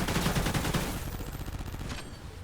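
A manually fired turret in Call of Duty Ghosts Extinction fires a rapid burst of gunshots, loud close repeating cracks that fade after about a second into a softer tail.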